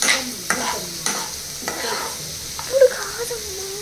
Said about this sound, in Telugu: ఇది సో ఏవైతే మంచిగా ఫ్రై చేసుకోవాలి.